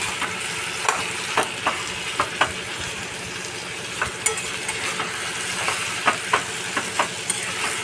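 Banana stem curry is stirred in a pan with a spoon, giving repeated scraping clicks at an uneven rhythm over a steady low sizzle, close and fairly loud, with no voices.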